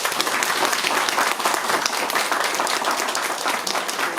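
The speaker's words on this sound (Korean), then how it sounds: "여러분의 박수로서 감사합니다." A crowd at a campaign rally in Pocheon claps and applauds loudly and steadily. The dense, even applause is close and carries through the whole stretch without pause.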